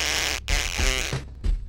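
A raspberry blown through a hand cupped like a trumpet, narrow side to the face, imitates a snipe call for a snipe hunt, giving a loud buzzing, flapping sputter in a few bursts that fade out near the end.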